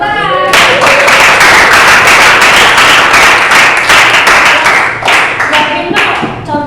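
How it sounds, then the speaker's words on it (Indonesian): A classroom of students clapping together, a loud, dense burst of many hands that sets in quickly, holds steady for several seconds and then tapers off, with no talk over it. "Oke tepuk tangan."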